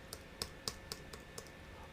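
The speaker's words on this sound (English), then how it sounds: "I can fix that just by clicking in here and typing" Computer keyboard clicks and typing during data entry in presentation software, about seven quiet, spaced keystroke taps over a soft background hiss, no talking.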